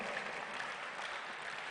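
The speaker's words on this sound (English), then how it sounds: "I want to hear the loudest applause ever" An audience at the Springboard 2020 Road Show session in Kumasi applauds for a design architect, a dense, even wash of clapping that holds steady throughout.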